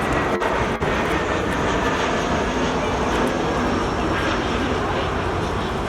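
Condor Airlines Airbus A321 arriving from Malaga lands at Frankfurt airport, a steady loud broadband jet roar that holds throughout, with a couple of brief thumps early on.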